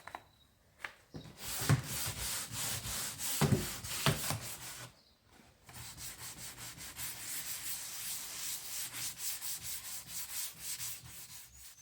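Wooden bedside drawers being sanded by hand, a steady close scratchy rubbing in quick back-and-forth strokes, with a short pause midway before continuous sanding resumes.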